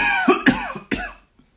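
A person with a cold coughs three times in quick, harsh bursts, close to the microphone, followed by a brief quiet tail.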